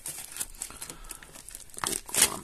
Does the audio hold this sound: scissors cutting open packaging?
yes